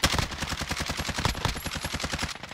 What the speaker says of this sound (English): Oh, Elijah, they just shot me.